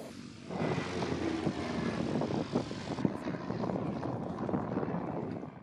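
A propeller aircraft drones overhead at an air show, a steady loud engine roar that holds for several seconds with outdoor crowd ambience beneath.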